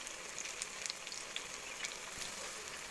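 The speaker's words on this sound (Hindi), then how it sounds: "दूसरे साइड भी फ्राई हो रहा है" Wheat flour snack frying in a pan, its second side cooking, giving a steady, faint crackling sizzle with scattered small pops throughout, with no voices.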